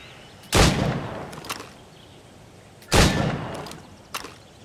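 Two sharp gunshots at targets in Assassin's Creed Rogue, loud and close, spaced a couple of seconds apart, each with a ringing tail, and a faint smaller report between them.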